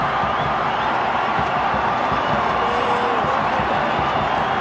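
A large crowd roars and cheers at the MCG during a cricket match between Sri Lanka and Australia, a dense, steady wash of noise throughout, with faint clapping mixed in.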